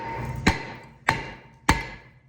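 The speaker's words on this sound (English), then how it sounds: "take your hammer and you're gonna hammer around the face of this to get this off" A hammer strikes a Ford Edge rear hub three times at an even, steady pace, each blow a sharp metallic bang close by with a ringing decay.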